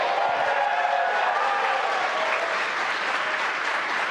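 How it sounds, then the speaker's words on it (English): SpaceX employees gathered around the Mission Control Center at SpaceX headquarters cheer and applaud during Crew Dragon's Demo-1 return, a dense, continuous wash of clapping and crowd noise. "You can hear cheering here at SpaceX headquarters"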